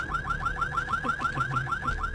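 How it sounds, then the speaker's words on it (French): A car alarm in Vampire: The Masquerade – Bloodlines wails in a loud, rapid warbling cycle, about five rising sweeps per second, with no talking over it. "Ah, une alarme."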